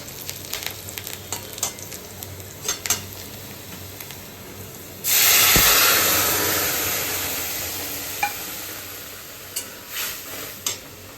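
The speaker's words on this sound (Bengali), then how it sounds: "এই যে ফোড়ন দিয়ে দিয়েছি ডালটা দিয়ে দেবো" Dal (lentils) poured into hot spice tempering, a sudden loud sizzling burst that slowly fades, with light kitchen clatter before and after.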